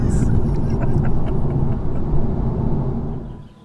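A BMW M240i xDrive accelerating in sport mode, its engine a steady loud low rumble throughout that fades slightly at the very end.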